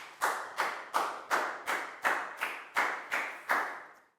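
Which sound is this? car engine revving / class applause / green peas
class applause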